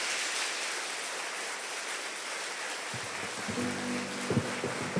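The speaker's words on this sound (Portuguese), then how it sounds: "Dá um aplauso lindo para ele agora" A church congregation applauds in a broad, rain-like patter of many hands. The clapping continues throughout while soft sustained music swells in beneath it about halfway through.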